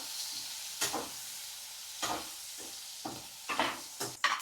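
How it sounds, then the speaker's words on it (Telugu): Dried fish fries in hot oil, a quiet background crackle broken by several sharp bursts of spatula stirring and scraping in the pan. "ఇంక ఇవి వేగిపోయినాయి ఫ్రెండ్స్"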